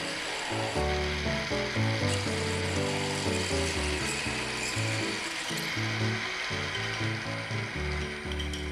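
Drill press boring holes in hard steel without a pinion feed, a steady loud grinding and whirring with a repeating rhythmic chatter, continuous throughout with no talking.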